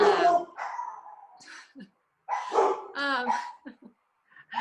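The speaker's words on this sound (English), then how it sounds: "My dog is going to bark because your dog is barking." Dogs barking indoors, a few sharp barks and yips coming in bursts with pauses between, moderately close and fairly quiet.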